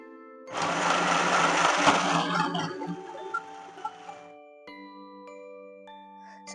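A Flipkart mini sewing machine stitching cloth whirs loudly for several seconds in a dense mechanical buzz, then slows and stops, leaving faint ticking and a lingering tonal hum.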